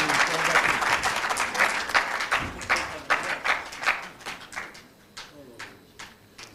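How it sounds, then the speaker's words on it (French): Audience applause at a press conference, a dense burst of clapping that thins into scattered, fading claps toward the end. "Sous vos applaudissements, s'il vous plaît, Maître Fraichiba est parmi nous."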